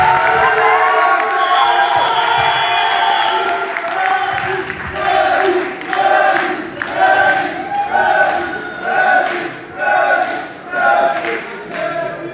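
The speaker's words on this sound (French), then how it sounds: "Sous vos applaudissements, s'il vous plaît." Crowd at a Comoros independence day celebration in Béni Mellal, Morocco, breaks into loud cheering and shouting, then settles into rhythmic, pulsing chants and cries that rise and fall in regular bursts.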